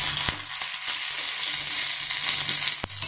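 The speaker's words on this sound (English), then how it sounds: "We have to break the green chilli and fry in oil, otherwise it will burst." Broken green chillies sizzle in hot oil with a continuous soft crackle, punctuated by a couple of sharp pops or taps, with no talking.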